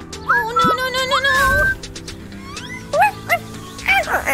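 Cartoonish dog barks and yips in a babysitter escape video game, several short high barks and whimpers mixed with game music and excited voices talking over them.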